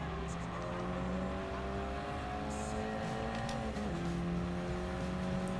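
A race car in the video game GT Sport roars close and continuously as its engine pitch climbs through the gears, dips at a shift and rises again, with brief tire squeal over the droning engine.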